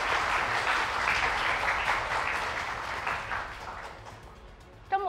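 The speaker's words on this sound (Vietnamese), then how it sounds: "rất cần nhận được những tràng pháo tay thật là nồng nhiệt từ phía các bạn cổ động viên" An audience of supporters at a televised student quiz contest applauds in a broad, sustained round that gradually fades, before a voice speaks at the end.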